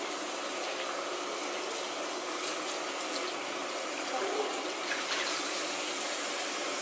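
Tap water running steadily into a sink while a child's face is washed, a constant close hiss and splash throughout with no speech.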